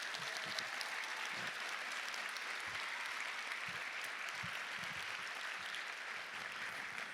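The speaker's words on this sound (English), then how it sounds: "Can we give them another round of applause?" An audience gives steady, dense applause for the Byron Center middle and high school orchestras, filling the space evenly for several seconds.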